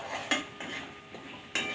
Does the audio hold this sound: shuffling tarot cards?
no